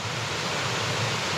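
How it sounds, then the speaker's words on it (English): Small trickling waterfalls cascading through a valley near Pistyll Rhaeadr in Wales, a steady, dense rush of falling water heard close and unbroken throughout. "These are the little tiny trickle waterfalls that cascade through the valley"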